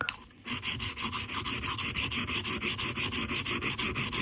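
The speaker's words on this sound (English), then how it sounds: "I'm starting to put a completely new edge using the coarse Chinese plates, diamond plates." Carbon-steel Morakniv Scout knife blade stroked back and forth on coarse diamond sharpening plates, a loud, even run of rhythmic rasping strokes with no talking.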